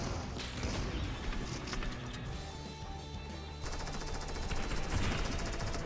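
Rapid automatic gunfire and bursts of shooting in Fortnite Season 3, dense and continuous over busy game sound effects, with crashing impacts mixed in.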